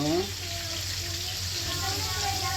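Hot cooking oil sizzling and crackling in a pan while making ginisang bagoong, a steady close hiss throughout with speech over the start.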